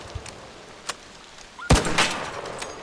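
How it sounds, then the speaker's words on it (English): Gunfire in the video game Arc Raiders: a couple of faint distant pops followed by one loud, sharp close shot with a short ringing tail. "3 shots should do it"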